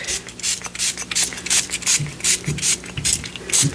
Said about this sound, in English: And a little bit of spray will do that for you.